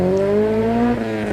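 A Honda Civic FA5 fitted with a full race exhaust passes by, its engine note rising then dropping in a smooth, sustained drone over about a second and a half, fairly loud and alone.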